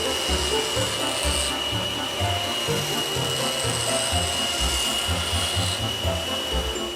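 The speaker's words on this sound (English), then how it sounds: "turn on the saw, using the lamp wedge, pass each piece across the blade." A Taurus 3 ring saw grinds through stained glass pieces, a steady whine with a constant high tone under continuous rough rasping and scraping from the glass passing across the blade, heard alone.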